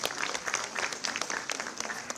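An audience at a girls' empowerment event with the Chief Minister claps in a lively burst, individual sharp claps standing out within a fairly quiet, slightly distant patter.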